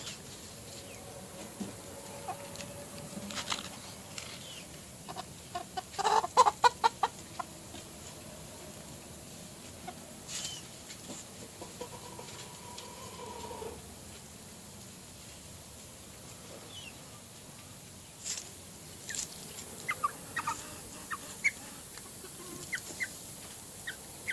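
Chickens and young chicks in a backyard flock make soft scattered clucks and peeps, with a brief cluster of sharper pecking taps midway, all faint and distant.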